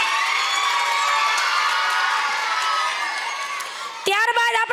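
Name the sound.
audience clapping and cheering at school annual function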